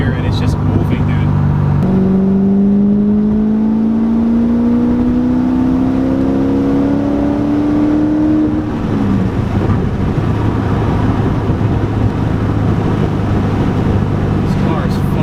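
A Chevrolet Corvette C6 Z06 with upgraded heads and cam pulls under light throttle in fourth gear, its engine tone climbing smoothly then easing off, loud and close inside the cabin with brief talk over it.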